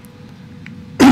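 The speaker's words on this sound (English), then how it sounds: "excuse me for my coughing and all" A single harsh cough bursts out close and loud at the very end, after a stretch of quiet low hum from a game playing in the background.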